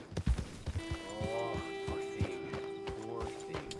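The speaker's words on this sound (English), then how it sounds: "Oh, a horse." A horse in the video game Red Dead Redemption 2 clip-clops close by with steady hoof beats and lets out a drawn whinny, set against game ambience.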